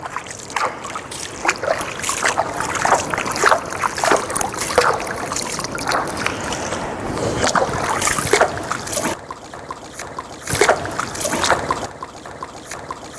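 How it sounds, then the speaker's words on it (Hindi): Water poured over the feet during ritual ablution, splashing and trickling in uneven bursts close by, with soft wet rubbing between pours and no talk. "आप पानी लें और इस तरह पानी डालते जाएं और खिलाल करते जाएं"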